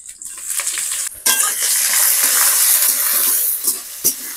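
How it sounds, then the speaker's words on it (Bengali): Onions sizzle loudly in a hot pan with crushed garam masala and cumin, the constant frying hiss broken by a few sharp scrapes and clatters of stirring. "হালকা নেড়ে নিয়ে এর মধ্যে পেঁয়াজ দিয়ে দেব।"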